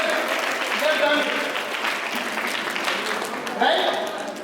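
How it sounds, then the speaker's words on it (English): A school audience applauds a team at a tech event, a sustained wash of crowd clapping that runs steadily throughout at moderate level, swelling briefly near the end, with a voice faintly audible underneath. "They have touched it, big round of applause for them."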